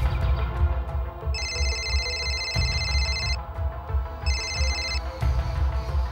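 A telephone rings in two electronic bursts, the first long and the second short, close and clear over a low background rumble.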